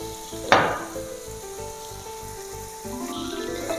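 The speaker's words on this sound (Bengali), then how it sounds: "এ পর্যায়ে যে চিংড়িগুলো ভেজে রেখেছিলাম এগুলো দিয়ে দিচ্ছি।" Fried prawns dropped into a pan of cooked masala for prawn malai curry, a sharp burst of sizzle at the moment they go in, then a steady, moderate frying hiss with a faint tone in the background, no speech.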